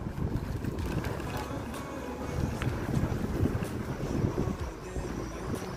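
Steady wind rushing and buffeting against the microphone outdoors on a cloudy day at Gravatá beach, Navegantes, Brazil, a continuous low roar with no speech.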